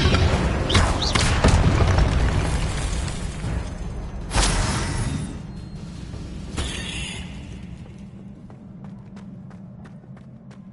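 The Incendio fire spell is cast in a Harry Potter video game: a loud whooshing burst of flame with a booming impact roars up, then fades into crackling and settling debris, with more bursts following.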